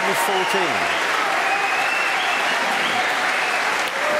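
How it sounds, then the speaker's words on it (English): Sustained loud applause from a large snooker crowd at the 2017 Masters during a 114 break by Ronnie O'Sullivan, continuous clapping throughout with a brief voice over it at the start. "they're just going to keep on clapping all the way through this break"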